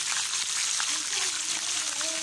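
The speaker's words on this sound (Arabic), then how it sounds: "الفراخ اتحمر في الزيت اهي" Chicken frying in oil, a dense close hiss of sizzling bubbles filling the whole moment with steady loudness, while a voice talks faintly over it.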